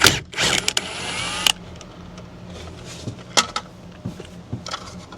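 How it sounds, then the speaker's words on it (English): An impact gun with a 21mm socket breaks loose a large steering wheel nut on a 5.7 Chevy, a loud short burst of rattling hammering followed by quieter metallic clinks and handling noises nearby. "Got a 21mm socket here and an impact gun. Let's pull this big nut off of here."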